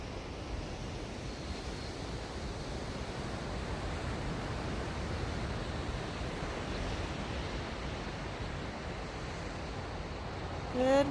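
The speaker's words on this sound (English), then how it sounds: "There's actually quite a few big waves out there." Big ocean waves roll and break at Moonstone Beach in Cambria on a misty morning, a broad, continuous surf wash heard from the shore with some wind buffeting and no voices.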